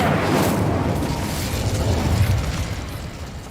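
A fiery blast as the Incendio spell is cast in a fantasy video game, a loud, close whooshing burst of flame with a crackling rumble that slowly fades over a few seconds.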